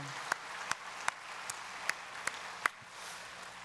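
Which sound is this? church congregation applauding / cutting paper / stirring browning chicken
church congregation applauding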